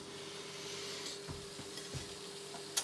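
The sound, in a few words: liver searing in a pan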